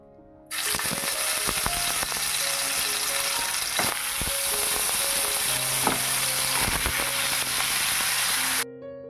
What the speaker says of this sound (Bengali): তেলের ওপর এবার মাছগুলো আমি দিয়ে দেব